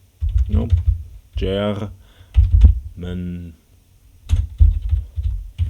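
Clicky typing bursts on a wobbly computer keyboard that shifts around on the desk, close and loud, alternating with someone speaking between the keystroke runs.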